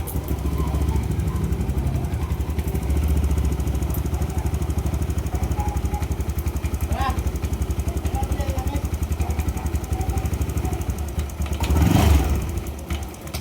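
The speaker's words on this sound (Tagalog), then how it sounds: "Kita nyo naman na umandar na nga ang motor" Yamaha Aerox scooter engine, a bike that had not run for a year, idling after repair with a rapid, steady putter close to the microphone, a brief louder rev near the end.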